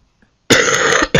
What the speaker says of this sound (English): sorry about all the coughing